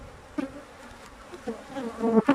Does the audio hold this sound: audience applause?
no